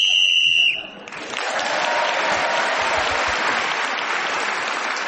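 A sharp, high whistle blast ends a round of a radio panel game, then breaks off into sustained applause from a studio audience that carries on to the end.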